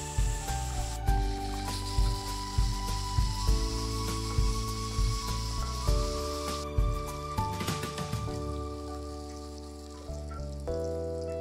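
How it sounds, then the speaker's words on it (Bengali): Rohu fish pieces sizzle steadily in hot oil in a kitchen, a close, continuous frying hiss with small pops and a few soft stirring knocks, no talking. "প্রত্যেকটা মাছকে ঠিক একইভাবে ভেজে নেব।"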